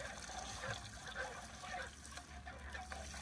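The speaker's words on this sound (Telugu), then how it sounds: "వాటర్ అయితే పోయేసుకున్నాం గాయస్" Water from a bottle pours steadily into a pan for Maggi noodles, a soft continuous splashing and trickling heard close up and fairly quiet.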